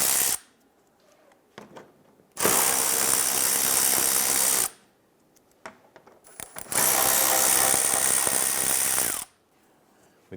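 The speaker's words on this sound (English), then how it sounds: "We use our 10mm socket to go ahead and remove the rest of the screws holding this panel in." A 10mm socket on a power driver backs screws out of the engine splash shield on a 2012-2017 Toyota Camry, two long loud whirring bursts with brief quiet gaps and small clicks between them.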